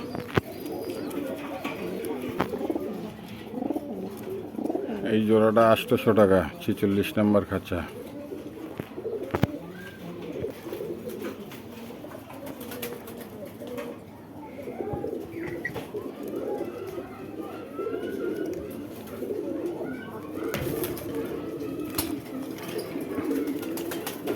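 Pakistani Giribaj pigeons coo repeatedly at a market stall, their soft calls mixed with someone talking over them, with a short louder burst of vocal noise around the middle.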